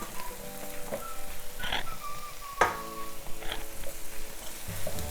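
Potatoes tipped into a pan of sizzling eggplants, giving a steady frying hiss broken by sharp clatters and knocks as the pieces land, with no one talking.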